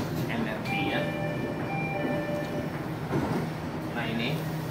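Jakarta MRT train ride, a steady rumbling carriage interior with rolling wheel noise and faint tonal whines, while someone talks over it.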